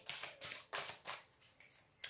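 Tarot cards being shuffled and handled for a reading, heard as several quick, soft riffling bursts close by in a quiet room, with no talking.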